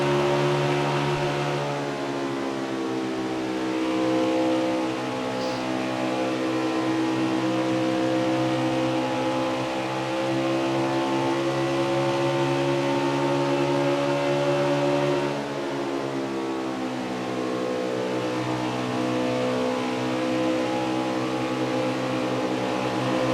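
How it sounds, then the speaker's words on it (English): Xfinity race car engines at Kansas Speedway drone with a steady, loud, buzzing high-revving whine that shifts pitch slightly as the cars run, sustained throughout with no talking. "Let's hear these engines purr."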